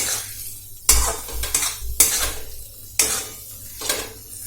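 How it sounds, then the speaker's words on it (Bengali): A spoon stirs a snail and onion fritter mixture with turmeric and salt in a bowl, giving four loud, regular scraping sweeps about a second apart, with a soft low hum beneath and no talking. "ব্যাস নাড়িয়ে নিচ্ছি ভালো করে।"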